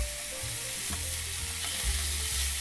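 Frozen pork belly searing in a hot pan for dongpo pork gives off a dense, continuous hiss and crackle. It is close and steady, with low rumbles underneath and no talking.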